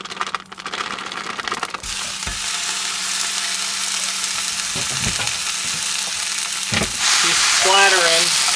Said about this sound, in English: splattering hot oil